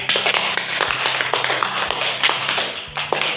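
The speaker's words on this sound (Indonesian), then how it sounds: "Tepuk tangan 5 kali untuk diri sendiri." Grade 4 pupils in a classroom clap their hands in a rapid, overlapping burst of many close claps, uneven and lively, lasting a few seconds.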